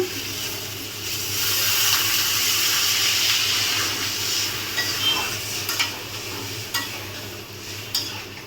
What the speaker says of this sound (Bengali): দিয়ে দেবো এখন জল